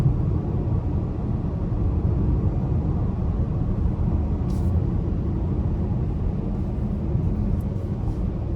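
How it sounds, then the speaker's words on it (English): A 2024 Buick Envision Preferred AWD with a turbocharged 2-liter engine cruises under power, a steady low rumble of engine and road noise filling the cabin with no break, a few faint high ticks near the end. "So starting the test drive in this new Envision has pretty good pull, especially with it being an all-wheel drive model"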